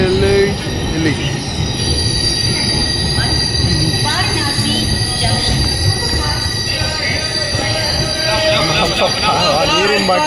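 A train rolls through a station, loud and close, with a continuous rumble under high metallic wheel squeals and a few voices in the background.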